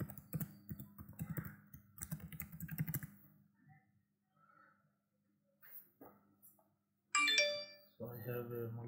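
Quick keyboard typing of a password on a computer, a rapid run of clicks mixed with talk, then a pause, followed by a chime and a dog barking nearby.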